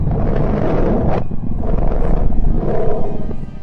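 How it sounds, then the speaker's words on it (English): Purported sound of the planet Mercury from space: a dense, continuous low roaring rumble with a brief swell and drop near the middle, loud and steady, with no voices. "Secondly, the sound of Mercury."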